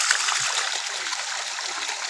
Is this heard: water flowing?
yes